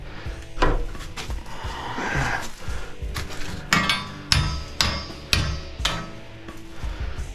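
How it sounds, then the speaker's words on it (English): Repeated hammer blows land on wood, about a dozen sharp knocks at an uneven pace, with some rubbing and shuffling between strikes, in a demolition building. "that hammer doesn't seem to want to work"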